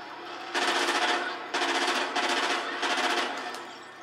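Rapid bursts from a CBJ-MS submachine gun in Call of Duty: Ghosts during free-for-all online play, with four loud, sustained strings of automatic fire separated by short pauses.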